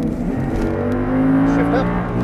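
An Audi R8 at full throttle on a race track, its engine pulling steadily and loudly with a rising tone, while an instructor's voice talks over it.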